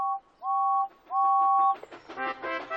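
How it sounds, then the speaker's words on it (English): A steam engine's whistle sounds in three clear, steady tonal blasts, followed by a busier burst of layered tones and sound toward the end. "Then Thomas heard a whistle."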